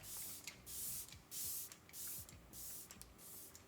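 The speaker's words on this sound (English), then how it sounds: "what I thought I'd do today is the Veil Soft Focus setting spray" Veil Soft Focus setting spray puffs from a bottle in about six short, airy bursts, each a soft hiss with brief gaps between, close and fairly quiet.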